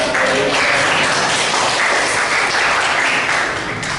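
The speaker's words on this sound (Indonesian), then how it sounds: "Kita beri tepuk tangan" Classroom applause for a student group after their scores are announced during a teaching performance test: dense, steady clapping from a small crowd that stays loud for about four seconds before easing slightly at the end.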